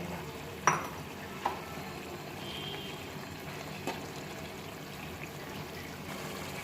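Onion sizzles in a hot frying pan for an egg bhuna, a steady hiss with a few sharp clinks of a spatula against the pan standing out above it.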